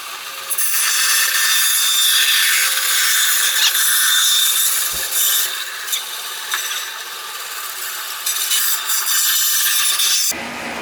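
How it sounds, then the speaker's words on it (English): Flanges being trimmed off a cast part, a loud continuous rasping and grinding scrape that runs nearly nonstop with brief dips and one short break, then stops abruptly. "I'm going to trim all these flanges and stuff."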